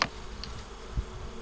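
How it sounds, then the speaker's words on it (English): Bees buzz softly inside a top bar hive holding a second, very small colony, a faint steady hum with a brief higher whine near the start and a low thump about a second in. "there's another colony of bees in the same top bar hive, and they are tiny."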